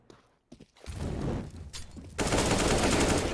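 Rapid gunfire from a competitive shooter video game, a dense rattling burst that swells and stays loud and continuous toward the end.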